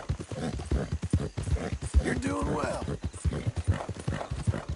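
Horse hooves clip-clop steadily in Red Dead Redemption 2, a mare trotting close by while someone speaks soothingly over the rhythmic footfalls.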